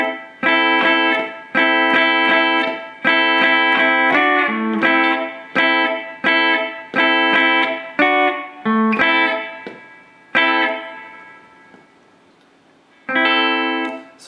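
An electric rhythm guitar plays the verse part of a song, with effects and a touch of distortion. Short, punchy chord stabs repeat in a syncopated groove, close and loud, then a held chord fades into near silence before one final stab.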